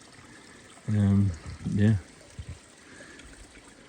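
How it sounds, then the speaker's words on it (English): A mountain stream during an elk archery hunt in northern Utah, its water running steadily down as a soft, continuous rush, with someone speaking briefly over it near the start. "pretty decent amount of water coming down out of there"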